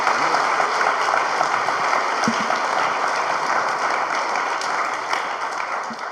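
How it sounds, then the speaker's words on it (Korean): A large audience at a Korean youth missions conference claps steadily in a dense, even wash of applause that holds throughout and fades slightly toward the end. "모두 크게 박수 쳐주시겠습니까?"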